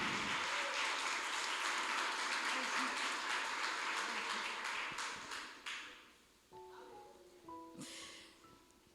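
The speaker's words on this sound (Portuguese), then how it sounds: "você que pode aplaudir a Deus" A church congregation applauds in a sustained wash of clapping that fades out after about six seconds, followed by a quieter stretch with faint tones and a brief burst of claps.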